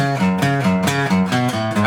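A short bright melody on a keyboard or synth, steady rhythmic notes moving up and down with a bouncy, upbeat feel.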